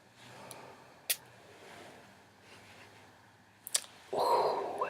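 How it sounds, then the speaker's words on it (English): Perfume sprayed onto an arm, a short soft hiss of mist at the end, preceded by a couple of sharp clicks and quiet room noise. "I'm going to spray it on my arm here."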